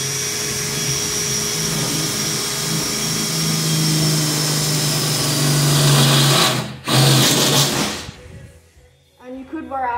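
A power drill boring with a bit while fitting cargo buckles on a lawn care trailer, a loud steady whine that runs for several seconds, cuts out briefly, resumes, then stops before a voice speaks.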